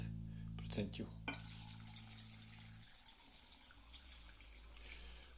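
Clear liquid of about 50% strength trickles into a jar packed with walnuts, starting with a few close clinks and splashes and then settling into a soft, steady pour.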